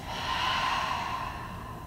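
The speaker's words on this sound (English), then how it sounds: "take a nice long exhale here" A long, slow breath pushed out through the mouth, a steady airy whoosh lasting nearly two seconds, close and alone.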